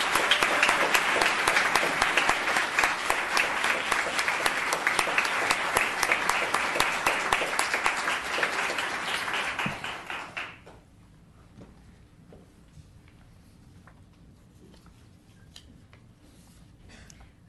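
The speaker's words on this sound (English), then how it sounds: "Another round of applause." Audience applause at a town council meeting, a dense crowd clapping steadily for about ten seconds before stopping abruptly, leaving quiet room noise with faint scattered sounds.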